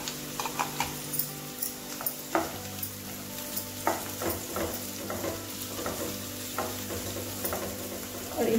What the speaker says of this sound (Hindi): बीन्स को 1 से 2 मिनट तक पकाने के बाद अब हम इसमें डालेंगे शिमला मिर्च और इसके साथ ही हम डाल देंगे इसमें गाजर